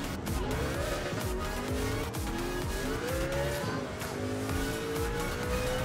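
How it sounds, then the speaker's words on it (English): A race car in the video game Gran Turismo 7 crashes during a long race at Le Mans, with a steady loud engine drone and extended tire squeal sliding in pitch, no talk over it. "Oh, that's my first crash."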